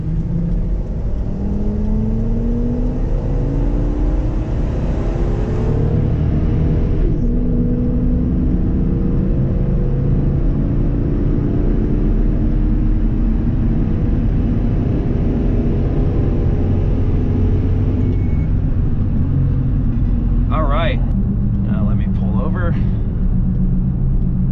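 A Ford Excursion SUV accelerates hard from 0 to 60 mph. Its loud engine roar rises steadily in pitch through the run, and a constant drone of wind and road noise sits under it.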